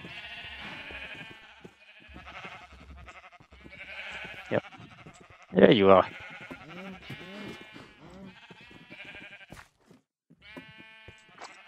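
A sheep bleats in Minecraft on a multiplayer survival server, with a sharp, loud bleat in the middle among the quieter game sounds, while a player talks casually over it.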